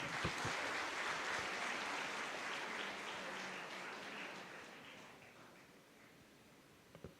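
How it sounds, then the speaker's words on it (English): An audience at the SFS College induction ceremony applauds the new students, a dense, steady wash of clapping that fades gradually toward the end, with a couple of sharp claps standing out just before it stops. "a big round of applause"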